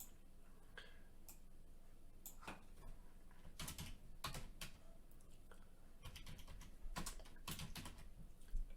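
Quiet, irregular clicking of a computer keyboard while code is typed, scattered keystrokes and short flurries, close and soft, with no one talking.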